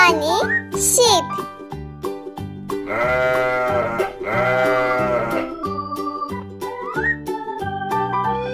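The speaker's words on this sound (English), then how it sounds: "Koyun, yani sheep." Sheep bleating, a few wavering cries set among a busy stretch of music with a voice and tinkling tones.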